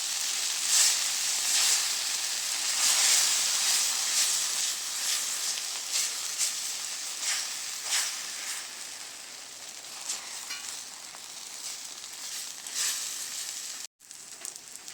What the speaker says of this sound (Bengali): ডিমটা ভেজে নেব।